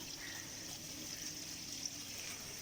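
Water trickles gently into a pond whose water line is still low, making a faint, steady, continuous wash with no breaks and no talk.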